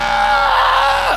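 A human voice imitates a long, strained scream, a single drawn-out wail meant to echo down a wall, held loud and steady before dropping away at the end.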